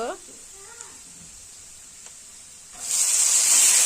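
Chopped onion hits a hot pan and breaks into a loud, steady, hissing sizzle that builds and holds. A voice speaks briefly just before it.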